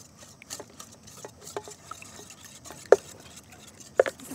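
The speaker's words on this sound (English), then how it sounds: "Whisk this together." A whisk stirs dry baking ingredients together in a bowl, producing soft, irregular scraping and tapping strokes with a couple of sharper clinks against the bowl, close and quiet, with no talking.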